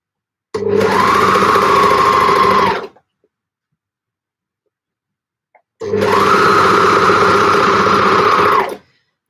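A sewing machine stitches gable top fabric bags in two loud, close bursts of steady whirring, each about two to three seconds long, with a silent pause between them.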